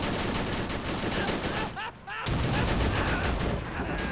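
Tank and small-arms gunfire rattles in a dense, continuous barrage in the war video game Men of War: Assault Squad 2, briefly dipping before resuming at full loudness.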